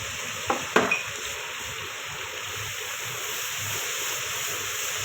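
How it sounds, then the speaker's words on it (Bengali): Spice paste with ginger and garlic being sautéed in a pan for chicken curry, a steady sizzle with a couple of sharp utensil scrapes and clinks near the start, close and fairly loud. "মশলাটা কষাচ্ছি।"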